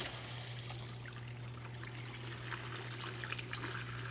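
Water drains from a dishwasher's drain hose into a collapsible bucket, a faint steady trickle and splash over a low constant electrical hum.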